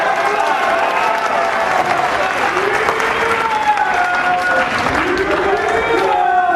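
A crowd at the Mosconi Cup pool match roars with loud cheering and sustained applause after Darren Appleton's win over Brandon Shuff, with excited voices and shouts throughout.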